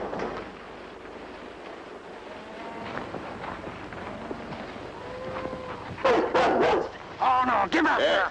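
A dog called Brown at a line camp barks in a few loud, sharp bursts near the end, after a quieter stretch where people talk nearby.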